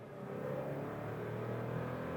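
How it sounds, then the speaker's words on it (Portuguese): A VW Polo Highline with the 200 TSI engine launches hard from a standstill, its engine note rising into a steady, moderately loud acceleration heard from inside the car. "Vamos estolar o carro e vamos sair"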